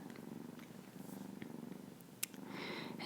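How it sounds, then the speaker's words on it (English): A kitten purrs steadily up close during a gentle massage, a soft continuous rumbling with a faint rustle and one brief tap near the end. "And she's purring right now"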